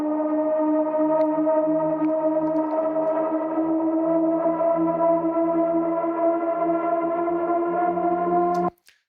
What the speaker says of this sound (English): We have some shepherd tones.